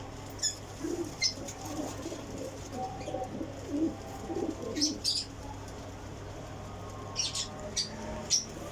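Indian Lakha pigeon cooing in soft, repeated low coos, joined by scattered sharp chirps from other birds nearby, with steady background hum and no talking.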